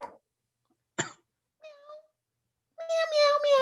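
A person vocally imitates a cat's meow several times, with a cough-like burst and a short mew before a longer drawn-out, wavering meow at the end; close and clear, no other talk.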